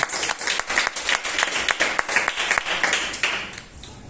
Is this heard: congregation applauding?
yes